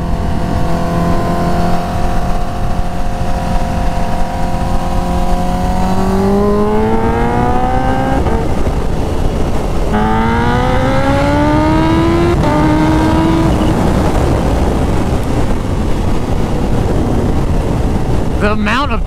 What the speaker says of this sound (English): The amount of torque this bike has right in the middle of the RPM range is insane.